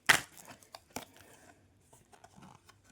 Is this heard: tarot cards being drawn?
yes